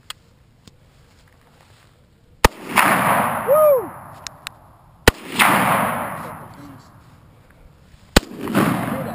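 Three sharp, loud SKS semi-automatic rifle shots spaced a few seconds apart, each followed by a rolling outdoor echo; a person whoops after the first.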